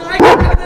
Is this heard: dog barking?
yes